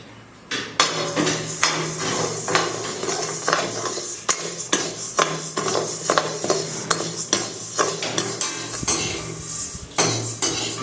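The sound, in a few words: roasting urad dal in a pan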